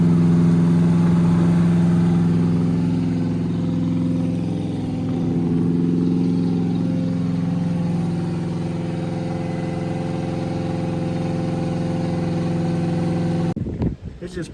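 A big-block engine in a 1965 Chevy Impala runs during cam break-in, with oil leaking from the rear valve cover, a loud, close, steady idle that swells slightly midway before cutting off abruptly at the end.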